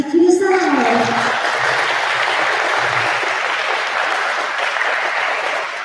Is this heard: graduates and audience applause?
yes